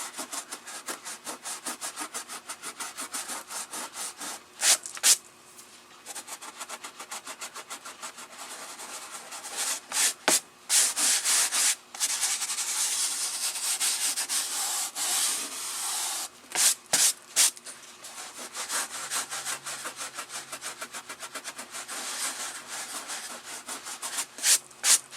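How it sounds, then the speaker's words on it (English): A finger rubbing over a rough surface on a daylily, producing a close, scratchy friction noise in repeated strokes with brief louder scrapes, continuous for most of the time and without talking. "You can rub your clean finger over it and make sure it's completely gone"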